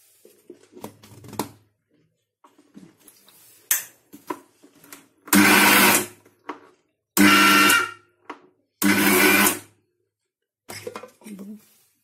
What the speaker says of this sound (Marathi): चला तर आता मिक्सी लावूया।